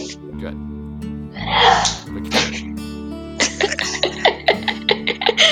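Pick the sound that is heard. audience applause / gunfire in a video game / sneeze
sneeze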